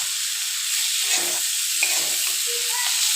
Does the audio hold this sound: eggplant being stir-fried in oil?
yes